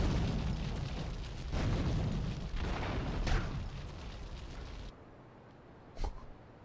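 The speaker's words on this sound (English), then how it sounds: "You want me to throw a grenade in there?" A grenade detonates in Grand Theft Auto 3 with a loud, rumbling blast that rolls on for several seconds before cutting off, followed by one sharp, isolated pop.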